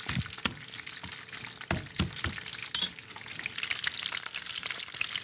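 Onions and unpeeled smashed garlic cloves sizzle in a roasting pan while being stirred, with several sharp scrapes and knocks over a steady frying crackle.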